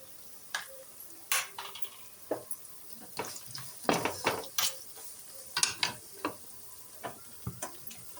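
Egg rice being stirred with salt in a pan, a spoon scraping and clinking against the metal in irregular strokes over a faint sizzle, close and fairly quiet.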